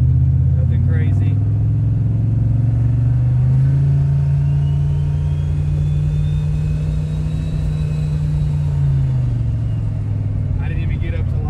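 Turbocharged V8 police car engine under part throttle in second gear, a loud steady rumble that rises in pitch then settles, heard close from inside the car.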